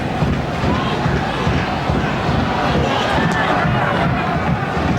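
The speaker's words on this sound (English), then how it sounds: "Now Robson, crowd encouraged by that." A football crowd at a Charlton Athletic versus Newcastle United FA Cup third-round match roars and cheers, a dense, steady wall of massed voices that stays loud throughout.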